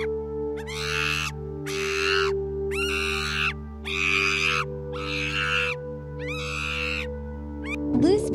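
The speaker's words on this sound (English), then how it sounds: "Colobus monkey." A colobus monkey gives a series of about seven harsh, evenly spaced calling bursts, loud and close, over a steady low hum, with a sharper cry at the very end.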